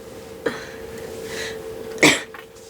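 Two coughs close by, a small one followed by a louder, harsher one, over a steady faint electrical hum.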